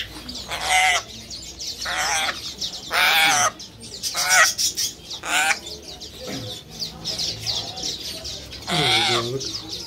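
Ornamental chickens clucking and squawking close by in repeated loud bursts, some drawn-out calls with pauses between, with occasional background chatter.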